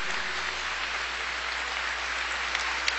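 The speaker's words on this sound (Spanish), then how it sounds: "Que se siente el aplauso en este día de hoy por todos los sacerdotes." Sustained applause for the priests at a Chrism Mass in a church, a dense steady patter of many hands clapping, moderately distant and even throughout.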